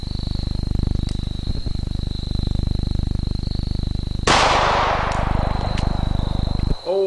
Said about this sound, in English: Now let's shoot close to it the semi-wad cutter solid bullet.